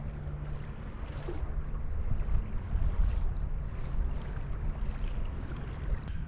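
Steady wind buffets the microphone out on the water while kayak fishing against a wind swell, a continuous low roar and rumble with faint water wash underneath and no voices.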